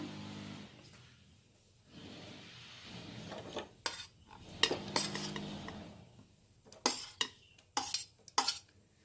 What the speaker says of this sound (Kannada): ಆಯಿಲ್ ಒಂದು ಸ್ವಲ್ಪ ಹಾಕ್ಕೊಂಡಿದ್ದೀನಿ. ಈಗ ಟೊಮೆಟೊ ಆ್ಯಡ್ ಮಾಡ್ತೀನಿ ನಾನು.